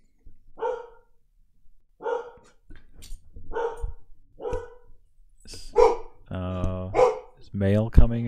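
Several pet dogs barking indoors in repeated short bursts, about five separate volleys spread out, with louder, denser barking near the end; a person speaks in between and over them.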